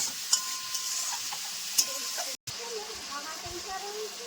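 Bottle gourd greens with stalks frying in fish oil in a pan and being stirred, a steady sizzle with scraping stir strokes and a couple of sharp clinks, under a voice talking.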